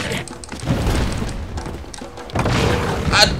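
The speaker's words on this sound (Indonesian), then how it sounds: "siapa yang lempar bom?" Deep booming bomb blasts in the video game Zelda: Tears of the Kingdom, several heavy thuds with rumbling tails landing close and loud amid outdoor game ambience, with a person speaking over parts of it.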